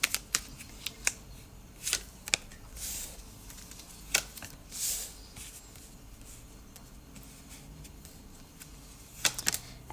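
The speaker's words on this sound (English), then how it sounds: "I'm just going to shuffle your cards" Tarot cards being shuffled by hand, a quiet run of soft riffles and crisp flicks with scattered sharp snaps and brief rustling bursts, close up in an otherwise still room with no talking.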